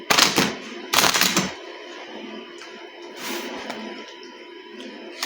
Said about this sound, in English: So we're just gonna shuffle this